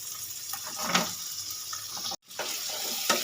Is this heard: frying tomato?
yes